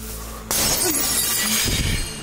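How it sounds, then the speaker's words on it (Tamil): Car window glass shatters suddenly and loudly, a sharp crash followed by a spray of breaking fragments, with no talking. "கண்ணாடி கார் நொறுங்குது."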